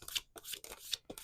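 Tarot cards are shuffled close by in quick riffling bursts, faint and crisp, three or four short rustles in a row with no talking.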